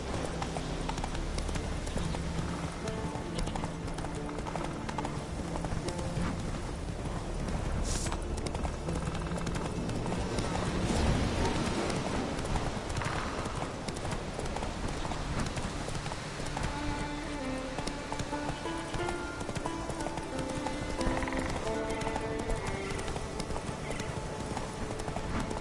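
Roach the horse galloping in The Witcher 3, fast rhythmic hoofbeats pounding steadily and close throughout, with occasional snorts or whinnies mixed into the game sound.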